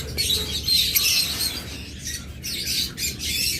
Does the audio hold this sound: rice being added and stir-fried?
no